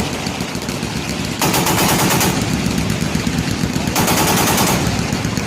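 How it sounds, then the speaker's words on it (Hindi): A jeep-mounted light machine gun fires in loud sustained bursts, a rapid rattling stream of shots with a short pause between two long volleys over a steady rumbling background. "जीप पर लगे LMG से दुश्मनों पर गोलियां बरसाना शुरू कर दिया।"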